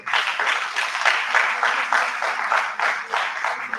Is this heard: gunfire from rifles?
no